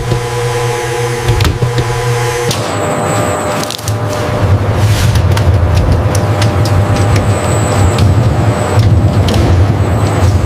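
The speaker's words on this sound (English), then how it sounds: "The mixer shifts into high-speed mode." An industrial dough mixer in a bread factory kicks into high speed, a loud, steady mechanical roar with hissing and rattling that thickens after a brief shift, continuous and close, with no voices.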